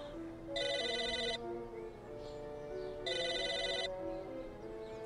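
A telephone in a video game rings in two identical electronic bursts about two and a half seconds apart, moderately loud over a soft tonal backdrop.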